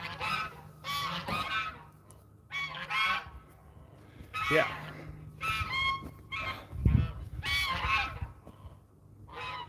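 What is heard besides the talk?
geese honking on a farm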